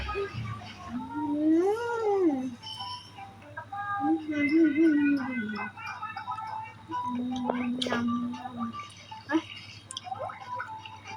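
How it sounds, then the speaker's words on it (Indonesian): A cat meows several times in drawn-out, rising and falling calls, close and fairly clear, with faint background noise and some soft clicks between calls. "Kayak kucing."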